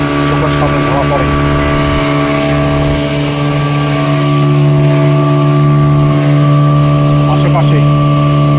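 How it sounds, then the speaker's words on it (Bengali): A fast speedboat cruising across open sea toward Elephant Beach at Havelock, its motor a loud, steady droning hum throughout, with brief splashy bursts of water near the start and end. "সাগরের বুক থেকে যখন এরকম দ্রুতগামী বোট এলিফ্যান্ট বিচের উদ্দেশ্যে রওনা দেয়"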